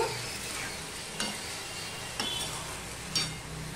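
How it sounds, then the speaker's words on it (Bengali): Mixed vegetables for a niramish Bengali dish fry gently in a pan, a soft continuous sizzle broken by a few scraping stirs and light clinks of the spatula. "এবার আমি এটা ভালো করে মিশিয়ে দেব"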